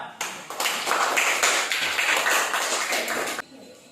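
A school class clapping together, dense fast applause close by that starts abruptly, holds steady for about three seconds and stops sharply.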